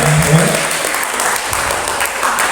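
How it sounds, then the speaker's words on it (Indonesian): Sustained audience applause for two speakers at an Islamic school sharing session, a dense, steady wash of many hands clapping throughout, loud and close with a faint voice underneath. "tepuk tangan yang meriah ya."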